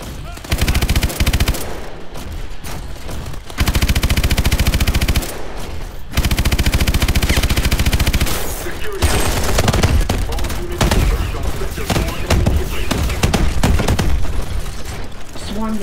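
Vehicle-mounted guns and missiles fire in Call of Duty: Advanced Warfare: dense, rapid machine-gun bursts alternate with heavy blasts and rocket launches, loud and continuous, while a voice speaks over parts of the action.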